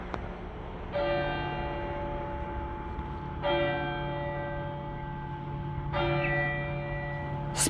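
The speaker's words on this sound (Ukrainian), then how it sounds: "І дзвони на церковній дзвіниці задзвонили знову." Church bells toll from a church bell tower in Goch, Germany, in slow, regular strokes, each ring swelling and lingering over a steady background hum.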